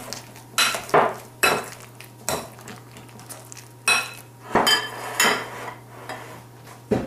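A whisk or fork beats eggs with salt and nutmeg in a bowl, producing a run of sharp, irregular clinks and scrapes against the dish, close and clear with no talking.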